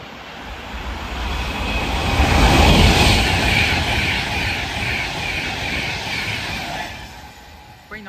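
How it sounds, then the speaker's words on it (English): West Coast express from Manchester to London Euston running through Nuneaton on the West Coast Main Line, a loud rushing passage that builds to a peak and then tails away over several seconds. "Soon to come charging our way through now will be Adventure West Coast service from Manchester-Peterborough to London Euston."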